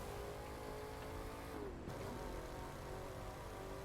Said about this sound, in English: Looked like that was a Charger that I passed.